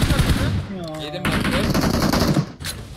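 Rapid automatic gunfire rattles in a shooting video game, dense bursts heard under a player's excited voice.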